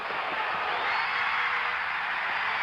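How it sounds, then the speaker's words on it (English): A distant, steady roar from the home crowd fills the arena at the 1976 NBA Finals Game 6, Boston Celtics at Phoenix Suns, a broad even wash of crowd noise with no distinct voices standing out. "You can hear the crowd in the background"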